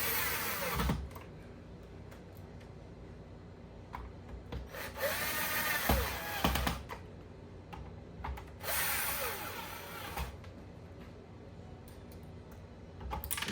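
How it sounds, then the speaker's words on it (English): A power drill with a long drill bit whirs in short separate bursts with quiet pauses between, alongside faint clicks and handling noises nearby. "I keep using this long drill bit."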